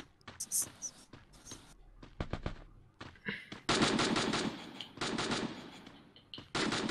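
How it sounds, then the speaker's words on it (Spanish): Rapid video-game gunfire rattles in repeated close bursts, some short and choppy, others sustained for over a second, with brief gaps between volleys. "Ahí siguen disparando"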